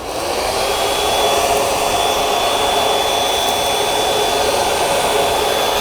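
A hair dryer blows hot air onto a foil-wrapped hair piece during hair colouring, a loud, steady whooshing roar with a thin high whine running unbroken throughout.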